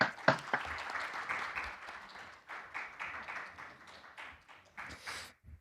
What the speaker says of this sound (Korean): 서로 박수를 주고받는